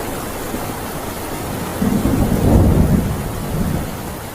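Heavy rain pours steadily in a loud, dense hiss, and a deep rumble of thunder swells and rolls through the middle before fading back under the downpour.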